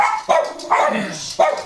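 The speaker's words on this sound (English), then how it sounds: "Bark at somebody, you don't wag your tail" A dog barks three times in quick succession, loud and close, each bark sharp with a slight yelping edge, with short gaps between.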